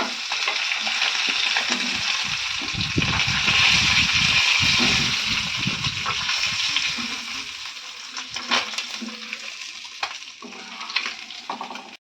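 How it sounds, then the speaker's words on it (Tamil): Fish coated in pepper masala fries in hot oil, a steady dense sizzle close by, with occasional clinks and scrapes of a utensil toward the end. "இந்த மாதிரி பொரிச்சு எடுத்துக்கிறேன்"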